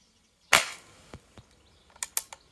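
Several sharp shots from a CO2-powered airgun firing pellets, one loud crack followed by quieter pops and a closely spaced cluster of three near the end, each abrupt and short against a quiet background.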